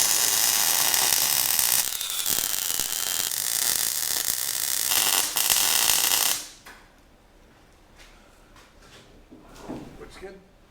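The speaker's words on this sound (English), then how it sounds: "weld around this side first, and then weld around this side in 2 swoops" Brackets are welded onto a large off-road wrecker, a loud, steady crackling hiss close by that runs for several seconds, then cuts off and leaves quieter shop noise with a few knocks.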